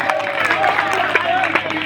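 An audience claps and cheers at a Republic Day lecture, a dense burst of applause mixed with crowd babble, loud and close throughout.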